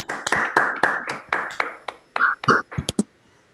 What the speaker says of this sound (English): maybe we should give a clap to the organizers